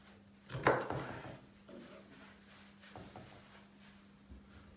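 A few sharp knife strokes cutting raw chicken on a cutting board, the first loud and crisp, followed by softer cuts and scraping against a low steady hum.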